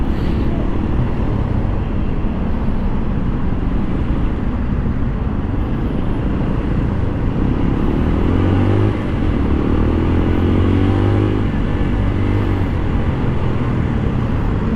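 A CFMoto Papio 125 XO motorcycle weaving through road traffic, its engine droning steadily up close over a loud wash of surrounding vehicle noise, with a rising engine tone partway through.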